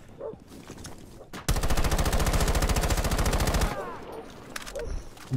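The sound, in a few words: assault rifle gunfire in a video game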